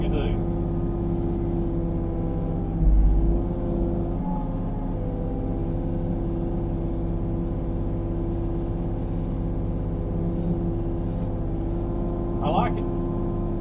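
A mini excavator with a brush cutter attachment runs steadily, its low engine drone and hydraulic hum constant and fairly close, with a brief louder thump early on and a short scraping burst near the end.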